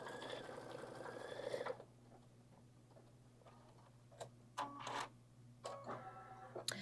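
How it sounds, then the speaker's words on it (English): Embroidery machine stitching out a design on fabric, a steady close mechanical ticking hum running throughout with a few brighter clicks and bursts partway through. "We're 11 minutes into the stitch out."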